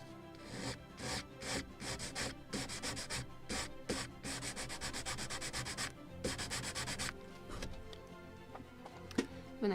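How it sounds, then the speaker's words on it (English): An aluminum sanding block is rubbed over a wooden caprail part of a model gunboat, making quick, rhythmic back-and-forth rasping strokes up close that pause briefly now and then. "Where is my favorite sanding block? A piece of aluminum,"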